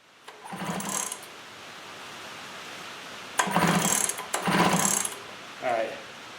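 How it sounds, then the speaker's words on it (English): Someone taps the Tillotson carburetor on an old Jonsered 70e chainsaw, making a few short metallic knocking clusters up close, separated by quiet gaps. "Tap the carburetor."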